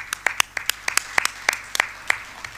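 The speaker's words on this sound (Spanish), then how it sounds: "Un aplauso para ella." Scattered, sharp handclaps from a sparse audience at a political gathering, irregular and fairly close, fading out toward the end.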